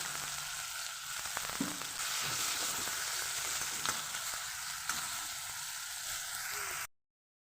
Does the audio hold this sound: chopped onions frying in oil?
yes